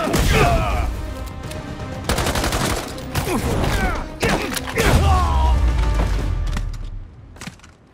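Fireworks going off in the Spider-Man 2 video game, a dense run of crackling bursts and booms that packs the whole stretch loudly, with a softer tail near the end.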